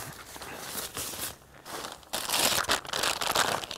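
Plastic bag holding a trail guidebook, crinkled and rustled close up in uneven bursts, growing louder and busier in the second half, with no talking.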